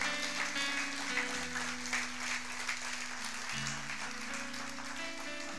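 A church congregation applauds with a steady wash of many hands clapping, sustained over sustained musical tones from instruments in the background.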